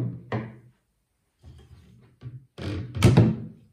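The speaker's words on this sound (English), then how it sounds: "press the bolt release button and then you can remove the bolt from the rifle" Mechanical clicks and thunks come from a Victrix Tormentum .375CT sniper rifle as its bolt is drawn back and removed, a few separate close metallic knocks with a louder clack near the end.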